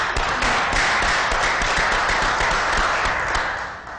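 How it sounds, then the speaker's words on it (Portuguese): An audience at a round-table event applauds a French guest introduced as an ambassador of peace, dense sustained clapping filling the room and tapering off at the end. "vamos aplaudir o nosso francês, o nosso embaixador da paz"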